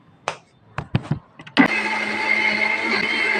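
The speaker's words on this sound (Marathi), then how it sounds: "परत मी मिक्सर लावते" A kitchen mixer grinder starts up and grinds a coconut masala paste with a loud, steady whir for about two seconds. It follows brief bursts of talk and clatter.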